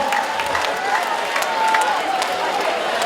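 A crowd applauds steadily at a police election security drill, a dense wash of clapping with scattered cheers, continuous throughout at moderate loudness.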